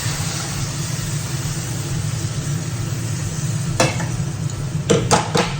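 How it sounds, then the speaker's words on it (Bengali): Hot water poured into frying masala for chicken butter masala sets off a steady, loud sizzle under a low background hum, with a few sharp utensil clinks and stirring clatters toward the end. "ওই গরম জলটা মশলাটার মধ্যে দিয়ে দিলাম"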